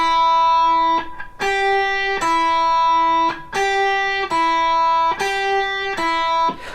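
Guitar notes picked quickly with alternating down and up strokes, a steady run of about eight clean, ringing tones played alone and close up.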